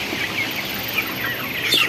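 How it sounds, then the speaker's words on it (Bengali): A large broiler chicken about a month old clucks close by on a poultry farm, a few short clucks over faint background chirps. "আমাদের একটা বড় সাইজের মুরগি"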